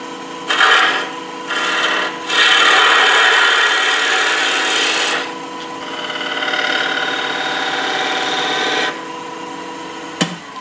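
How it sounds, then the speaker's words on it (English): A small spindle gouge cuts into wood turning on a lathe, making rough scraping bursts of varying length over a low motor hum, with a sharp click near the end. "I'm just using a small spindle gouge to get that shape the way that I want it to right there"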